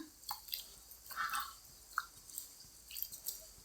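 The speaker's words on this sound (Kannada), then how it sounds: "ನಾನು ಅಕ್ಕಿ ತೊಳ್ಕೊಳ್ಳೋಕ್ಕೆ ನೀರು ತೊಗೊಂಡಿದ್ದೀನಿ" Rice grains being washed by hand in water give faint, close splashes and squishy drips in an irregular rhythm, with no talking.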